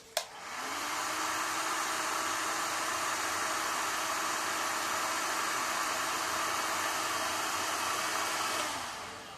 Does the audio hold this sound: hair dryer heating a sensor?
yes